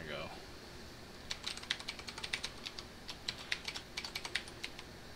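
Rapid clicking keystrokes on a computer keyboard, a quick irregular burst of close, crisp taps after a brief voice at the start.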